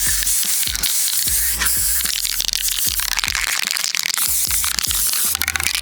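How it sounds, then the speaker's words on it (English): An airbrush spraying alcohol inks onto primed models, a steady hissing spray broken by rapid crackling and spitting bursts, close and continuous, with no talking. "it was time to start spraying down some of the alcohol inks"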